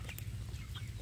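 Free-range village chicks (ayam kampung) in an open outdoor run cluck softly and faintly over a low steady hum, with a few brief chirps scattered through the short stretch.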